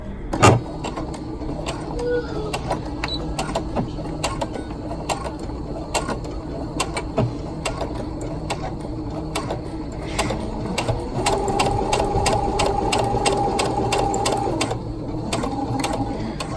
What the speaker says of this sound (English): my needle down just to make sure I'm at the right spot and start stitching.